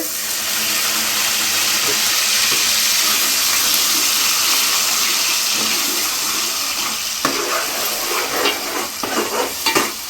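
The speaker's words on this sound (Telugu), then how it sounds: "నూనె బాగా వేడైందండి ముందైతే పచ్చిమిరకాయలు వేసుకుందాం" Green chillies frying in hot oil, a loud, close, continuous hiss and crackle that holds steady, with a few sharper spits and stirring scrapes near the end.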